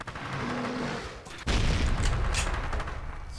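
Gunfire and heavy explosions from the Fallout: New Vegas video game with the Rockwell Descent mod, a sustained loud barrage that jumps sharply in intensity halfway through as blasts and shots pile up close by.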